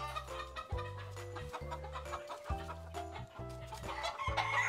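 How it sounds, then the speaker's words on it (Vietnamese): Young chickens and chicks on a poultry farm cluck and cheep in a steady busy chorus, with a low repeating mechanical hum underneath throughout. "Đây đám gà tơ với lại thả mấy gà con đi vòng chân"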